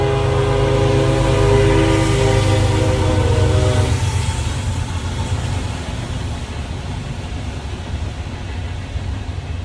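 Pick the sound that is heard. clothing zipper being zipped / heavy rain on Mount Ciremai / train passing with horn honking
train passing with horn honking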